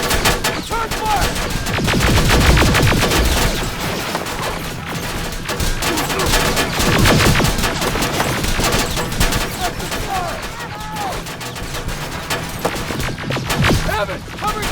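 Machine gun fire in the shooter Terminator Resistance, set in a ruined city: dense, continuous volleys and bursts mixed with booms, loud throughout, with voices shouting over the combat.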